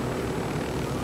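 Helicopter engine in the video game Ghost Recon Wildlands, a steady, dense droning roar with low rotor throb that runs unbroken and loud.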